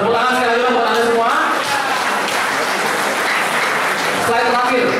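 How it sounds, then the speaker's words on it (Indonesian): An audience at a sales and marketing training session applauds, a dense, sustained burst of clapping with a voice heard over it at the start and end. "Tepuk tangan sekali lagi buat Anda semua."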